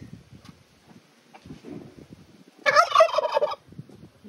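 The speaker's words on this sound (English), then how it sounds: "I'm gonna leave this chicken alone." A backyard flock fowl lets out a loud, rapid gobbling burst lasting about a second, close by, after quieter scattered rustling and low clucking sounds.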